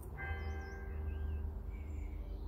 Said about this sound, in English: And there's our wonderful church bell.